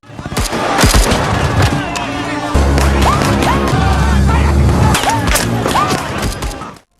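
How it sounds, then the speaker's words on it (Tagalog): Rapid bursts of World War II battle gunfire crackle amid booming blasts and whistling effects, dense and loud throughout, like a staged battle scene with a mixed soundtrack. "Isang putok ang umalingaw-ngaw at biglang sumabog ang labanan."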